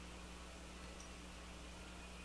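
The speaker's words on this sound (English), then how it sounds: "And you can hear the fan running a little bit right now." The cooling fan of a MacBook Pro laptop runs with a steady, faint, airy whir that holds constant throughout.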